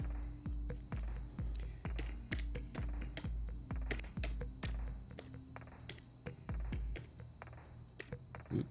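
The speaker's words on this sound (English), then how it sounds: "and I'm going to type" Keys clatter on a computer keyboard in quick irregular bursts of typing, close and crisp, with short pauses between clusters of taps and no voices.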